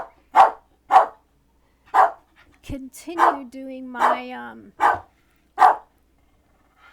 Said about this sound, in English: Here comes my dog. He's gonna bark.